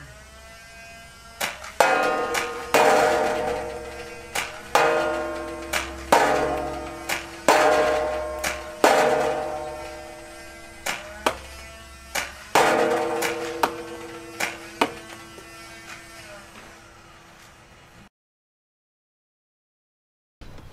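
A Nerf Rival Challenger blaster fires Nerf Accu shot darts, a quick series of sharp snapping shots in an uneven rhythm over a low electric hum, close and fairly loud, then silence.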